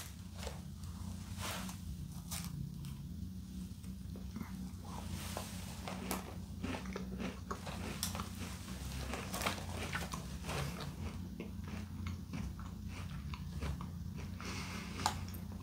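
Someone bites into and chews a small, slightly overbaked GIFI hazelnut cookie up close. Soft crunches and mouth sounds repeat steadily over a quiet room hum, and no one speaks.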